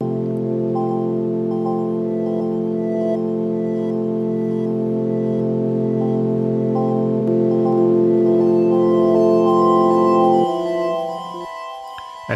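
Layers from a 2002 MicroKorg blend into a sustained ambient pad with steady droning chords and delicate repeating high notes on top. It holds at even volume, then the lower tones drop away near the end, and no one speaks.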